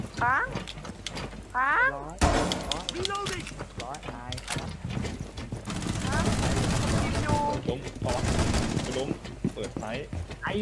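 Rapid gunfire bursts from the tactical shooter Rainbow Six Siege, including shots fired through wooden walls, crackle close and loud in repeated volleys while players talk over them.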